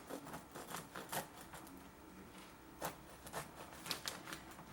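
A knife saws through a crusty bread sandwich, giving a series of soft, scratchy crunching strokes in an uneven rhythm, faint and close, with no talking.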